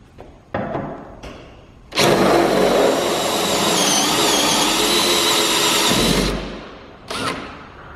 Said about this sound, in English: use my easy out that I have on my drill right there and get these out